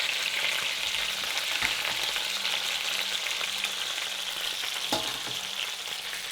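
Chicken browns in olive oil in a pan, a steady close sizzle that runs unbroken, with a couple of soft clinks partway through and no talking.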